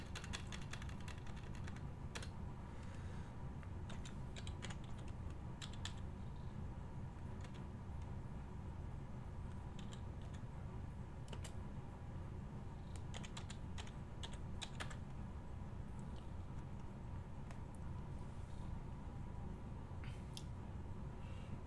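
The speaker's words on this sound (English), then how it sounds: "Let's type up this one." Close, quiet clatter of typing on a computer keyboard, irregular bursts of key taps with brief pauses, continuing steadily throughout.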